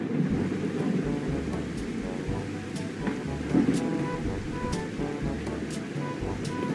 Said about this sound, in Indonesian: Cuaca lagi hujan deras